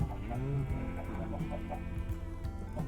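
Several chickens cluck repeatedly in a Minecraft survival game, short rhythmic clucks over a low steady background hum.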